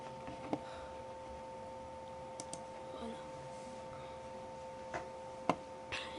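Typing on a computer keyboard gives sparse, faint clicks over a quiet background hum, with a few sharper isolated keystrokes.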